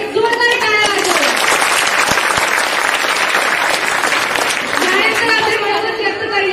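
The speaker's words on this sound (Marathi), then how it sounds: "सर्वांनी जोरदार टाळ्या वाजवा" Loud, sustained clapping from an audience at a school Teacher's Day program fills the room for several seconds, with a voice briefly heard over the start and end.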